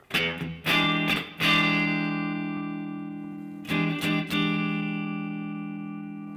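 An electric guitar through the overdrive setting of a Headrush multi-effects unit plays a few struck chords that ring out and sustain, each one slowly fading before the next strums.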